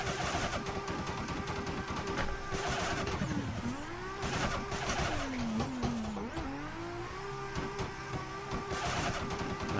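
A drift car at Ozark Raceway revs hard under full throttle in second gear, its engine note rising and dipping in sweeping pitch changes throughout, loud and close without talk.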